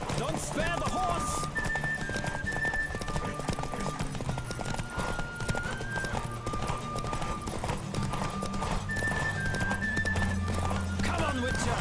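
Horse hooves gallop in a steady clip-clop rhythm while riding in The Witcher 3, close and continuous under game music, with some voices over the top.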